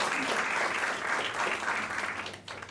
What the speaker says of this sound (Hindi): हाँ ताली बजाओ ना यार, अब एक ही बजा रहे कोई